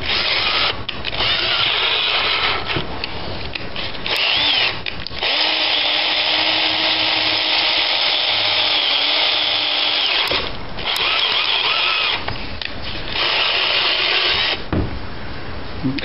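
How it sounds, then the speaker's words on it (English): A power drill set on low runs loudly in long, sustained bursts with brief pauses between them, its motor whine steady and close, during repair of a 1978 Dodge Power Wagon. "It's on drill. Put it on low."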